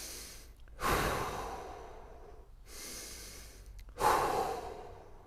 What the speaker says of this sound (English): take some deep breaths here in plank